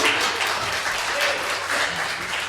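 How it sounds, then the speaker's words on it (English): Audience applause for the Double Vision family at a Christmas show, a dense, steady wash of clapping from a crowd that holds loud and even throughout. "Come on, big round of applause for the Double Vision family."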